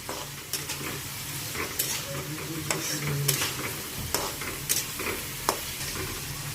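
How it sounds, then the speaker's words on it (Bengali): Chopped bottle gourd frying gently in a pan, with a steady close sizzle throughout and repeated sharp scraping stir strokes at irregular intervals. "এবার আমি দিয়ে দিচ্ছি যে লাউগুলো আমি কেটে রেখেছিলাম সেগুলো। এবার এটা হালকা হালকা করে ভেজে নেব।"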